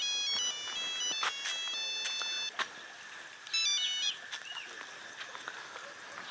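A mobile phone ringtone plays a bright, repeating electronic melody of beeping tones in a home, loud and close, pausing briefly before starting again.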